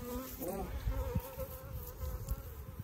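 Honey bees buzz in a steady, fairly quiet drone at an open hive during a late summer hive split, with a few louder passes close by.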